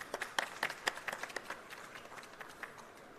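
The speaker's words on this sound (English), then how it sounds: "Big round of applause, please." An audience at a seminar on building evacuation during emergencies claps for a session moderator. Crisp, scattered claps come close together at first, then thin out and fade within a few seconds.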